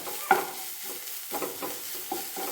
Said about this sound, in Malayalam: നമുക്ക് ഇതിലേക്ക് ഇനി ഇഞ്ചിയും വെളുത്തുള്ളിയും ചതച്ച് വെച്ചാൽ മതി. അതിൻ്റെ പച്ചമണം മാറുന്ന വരെ ഒന്നിട്ട് വഴറ്റണം കേട്ടോ.